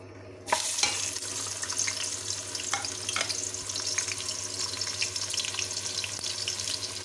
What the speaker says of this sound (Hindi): प्याज को फ्राई कर लेंगे पहले